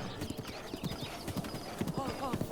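Horse hooves clip-clop in a steady trotting rhythm in the video game Breath of the Wild, close and clear, with a brief whinny and a voice talking over the hoofbeats.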